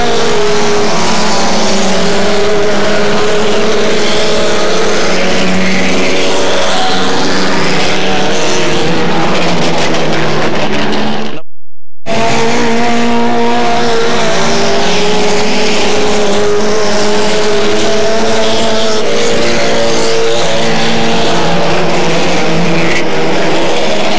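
Hot-rod race cars circling the track in 1996, a loud continuous engine roar with rising and falling revs as several cars pass, broken by a brief silent gap midway.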